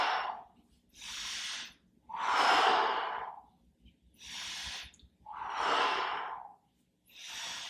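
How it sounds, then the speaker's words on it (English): Heavy, deliberate breaths during an abdominal exercise alternate inhale and exhale in a steady rhythm of about six long breaths, close and breathy with short quiet gaps between them. "You're going to inhale up, exhale down."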